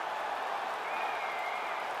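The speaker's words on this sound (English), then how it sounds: "So the crowd voicing its appreciation after that round." A video-game UFC 5 arena crowd applauds after a round, a steady wash of clapping and crowd noise at an even level throughout.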